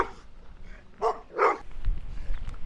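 Big, mean-looking dogs bark in two loud bursts close by, followed by lower rumbling noise.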